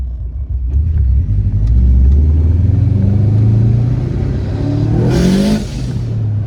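A tuned Subaru WRX Bugeye accelerates hard in first gear, its boxer engine rumbling up in pitch with a steady rising drone, then a brief hiss as it lets off near the end, close and loud.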